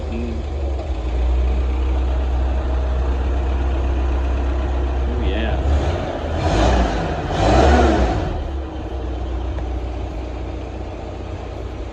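Old forklift engine from a truck school running at a steady idle, then revved twice in quick succession before settling back; someone briefly speaks over it.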